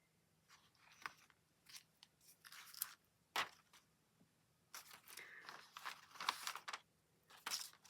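Scissors snip through sticker-backed colour copy paper in a series of short, crisp cuts at irregular intervals, close and fairly quiet, with rustling paper between the snips.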